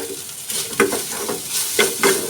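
Finely chopped capsicum sautéed with cooked potatoes in a pan, giving a steady close sizzle broken by several scraping stirs of a spatula in an uneven rhythm.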